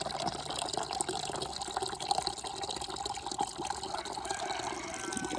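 Water runs steadily into a container, a continuous gushing splash with small drips, close by and fairly loud, with no talking.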